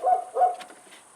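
A dog barks twice in close succession, fairly loud and nearby, heard in a garage or driveway during front and rear disc brake work on a Mazda 3, followed by a quieter tail of room sound.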